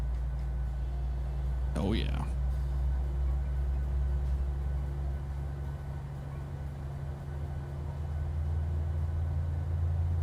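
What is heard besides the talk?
airliner engine rumble in Microsoft Flight Simulator video game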